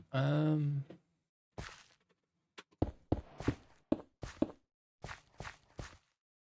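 Footsteps in hardcore Minecraft at night: a soft breathy sound at the start, then a run of short, dull steps in uneven clusters, moderately close and fairly quiet.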